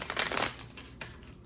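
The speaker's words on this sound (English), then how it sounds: "So I'm going to shuffle" A deck of oracle cards is shuffled close up, a quick soft riffle and papery flutter in the first half second, then a brief second slap of cards, quiet and alone.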